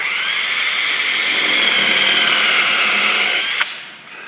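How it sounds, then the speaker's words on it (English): A power drill boring down into a wooden board during a screw assembly, a loud, steady high whine held for several seconds before it cuts off abruptly, close and alone. "So you just line everything up and go on your mark and drill down."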